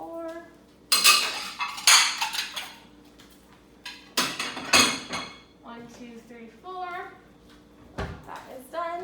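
Plates, bowls and silverware set out in a kitchen, with repeated clattering clinks of dishes and cutlery in several bursts, close and fairly loud, with a voice talking in the background between them.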